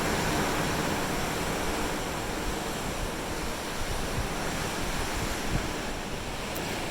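Ocean waves of the cold Atlantic wash continuously beneath a cruise ship at sunrise, a dense, loud roar of surf and rushing water mixed with wind buffeting the microphone, with no voices.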